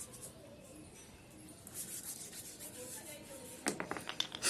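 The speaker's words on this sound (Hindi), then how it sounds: "दूसरे पांव के तलवों को, अंगूठों को, सिरों को इस प्रकार से रगड़ा जाता है।" Bare feet being scrubbed, soles and toes rubbed with a hand in a washing routine, giving a soft, steady, close rasping texture with a few sharper scrapes near the end.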